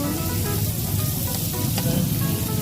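Samgyupsal pork belly sizzles and spatters on a grill at an unlimited samgyupsal restaurant, producing a dense, close, continuous frying hiss for a few seconds.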